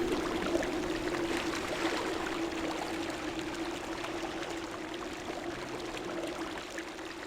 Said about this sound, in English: This nice water loop.